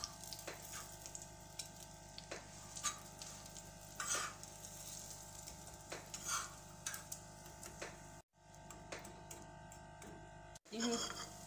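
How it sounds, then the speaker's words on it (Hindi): Shami kebabs frying gently over low heat in oil on a flat tawa, a soft steady sizzle with small crackles and faint ticks throughout, briefly cutting out twice. "अब मैं शामी कबाब डाल दूँगी इस पर और इसको बिल्कुल हल्की आँच पर फ्राई करूँगी।"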